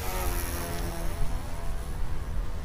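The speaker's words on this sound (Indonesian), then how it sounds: "Harusnya sih kalau drone bagus dia muter dulu." BUGS 3 Pro FPV drone in flight, a steady loud motor drone with a whining high tone held throughout, no voices over it.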